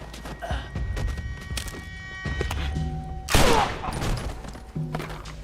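Gunfire in The Last of Us video game comes as a burst of loud close shots with thuds and impacts, mixed with game sound effects and tones.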